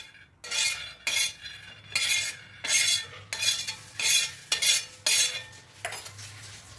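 Chicken curry ingredients being stirred and dry-roasted in a metal pan, a spatula scraping in steady repeated strokes, about eight rhythmic scrapes with a faint sizzle underneath, close and fairly loud.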